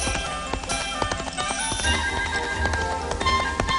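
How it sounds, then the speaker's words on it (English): Horse hooves clip-clop in a fast galloping rhythm, loud and close, with a neigh amid the running beats and no talk. "Hold back that horse!"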